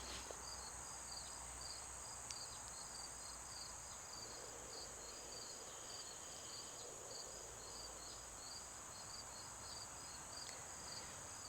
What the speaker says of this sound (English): I'm hearing the crickets.